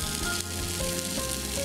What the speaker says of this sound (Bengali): এবার মশলাটার সঙ্গে কষিয়ে নেবো